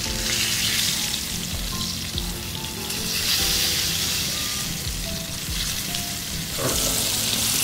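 Fish fries in oil in a pan set over glowing embers, giving a steady, close crackling sizzle that carries on throughout with no voices.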